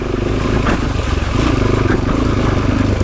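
Motorcycle engine with a manual cam chain tensioner fitted around 2014–2015, now loose, running at revs off the throttle with a steady loud drone and a fast metallic clinking ticking through it, close up.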